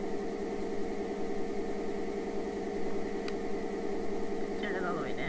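Lionel SD70ACE model diesel locomotive running under Legacy control with the labouring set to full, giving a steady, droning engine rumble with a faint tone sliding at the end.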